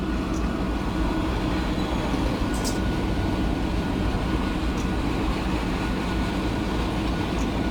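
An oncoming train rumbles past on the opposite track in the Run 8 train simulator, a steady dense roar of wheels and cars heard from a moving train, with a few faint high squeals and no talking.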